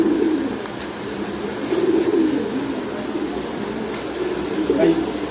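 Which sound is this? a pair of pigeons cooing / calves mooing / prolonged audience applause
a pair of pigeons cooing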